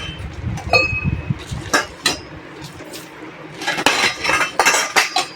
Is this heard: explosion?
no